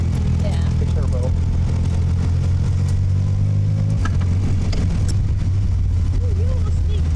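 A turbocharged kit car runs with a steady low engine drone, a rattling chain and turbo whine, and wind rushing past throughout, with people talking over it.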